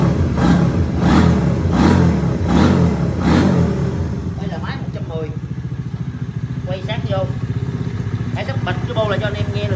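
A restored 110 cc Honda motorcycle engine runs close by, revving in a few pulsing bursts before settling into a quiet, even idle while someone talks over it.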